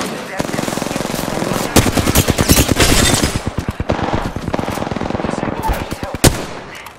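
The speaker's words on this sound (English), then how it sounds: "Open fire on the enemy." Rapid automatic gunfire in the Apex Legends video game, dense close bursts of shots with short pauses and game voice callouts mixed in.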